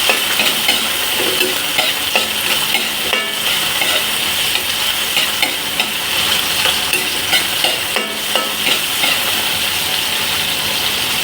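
Tomatoes sauté in a hot pan for ginisang ampalaya, a dense steady sizzle with scraping stirring strokes throughout, close and loud, no talk.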